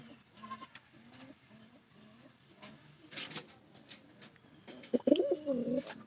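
Quiet scratchy shuffling with soft scattered coos, then a louder burst of rolling pigeon cooing near the end, close to the listener.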